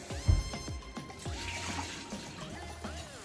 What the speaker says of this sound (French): Je vais donc rincer mes nouilles